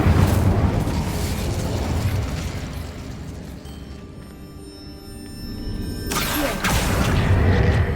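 A fire spell cast in the video game Hogwarts Legacy erupts as a loud, roaring burst that fades mid-clip before a second fiery blast swells back up near the end.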